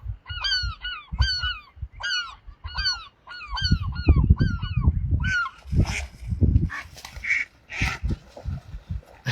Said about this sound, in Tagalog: Naglalaro yung mga ibon oh. Wild duck versus pigeon.